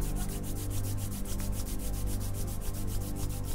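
Hands rub briskly together during a back and spine yoga session: a steady, close, dry rhythmic swishing of quick, even strokes that continues unbroken throughout.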